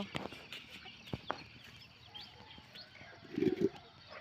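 Soft clucks and chirps of chickens and small chicks grazing on grass scattered across an outdoor scene, with a louder burst of clucking near the end; no talking.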